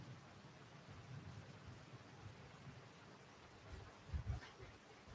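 Steady rain falls outside a house in Thailand, a faint constant hiss with soft patter and a brief low rumble near the end, no voices.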